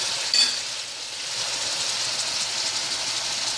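Rice with pigeon peas, crab, shrimp and Portuguese sausage, seasoned with paprika, cayenne, black pepper and salt, sizzles steadily in a pot as it is stirred, with a brief clatter at the start.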